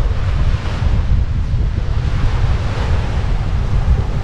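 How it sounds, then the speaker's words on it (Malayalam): Waves break on the sandy shore of Lac La Biche in Lakeland Provincial Park, Alberta, a continuous close wash of surf under heavy wind buffeting the microphone. "നല്ല നല്ല തിരയും ഇത്രയും കാറ്റടിക്കുമ്പോ ഒരു കടലിൽ വന്ന ഒരു പ്രതീതി ഉണ്ട്"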